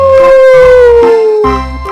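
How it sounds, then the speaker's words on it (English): A wolf howl from a children's animal-sound song: one loud, sustained tonal cry that slides slowly downward over two seconds, with low musical backing underneath and no talking. "What does the wolf say? The wolf says, ow."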